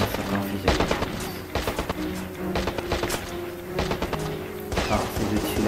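Rapid volleys of pump-action shotgun blasts ring out in a video game shootout, loud, dense bursts overlapping one another throughout with scattered impact crashes.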